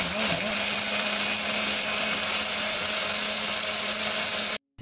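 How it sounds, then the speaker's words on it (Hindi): Blender grinding a spiced gravy base for chicken lababdar in a jug, a steady loud whirring drone that holds evenly for several seconds before cutting off abruptly. "जग में डाल के ग्राइंड करने लगी हूँ"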